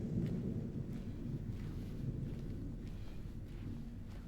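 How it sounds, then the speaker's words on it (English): Rain and rolling thunder ambience in the video game Silent Hill 2 Remake: a steady, dense wash of rainfall with a low, continuous thunder rumble underneath, unbroken and without talk. "That nice rain and thunder."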